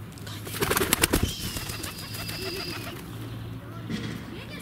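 Soft pigeon cooing in a low steady rumble, with some close rustling and knocks early on and a faint high tone through the middle.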